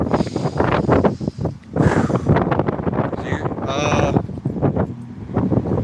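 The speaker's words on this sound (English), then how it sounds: "It's windy here." Steady wind rumbles and buffets the microphone outdoors while someone talks over it throughout.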